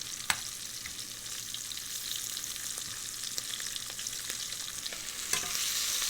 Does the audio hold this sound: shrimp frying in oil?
yes